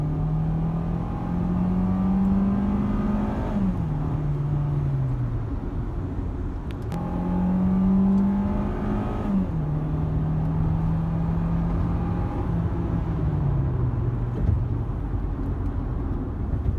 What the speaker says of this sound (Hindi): परफॉर्मेंस चेक कर रहा था गाड़ी की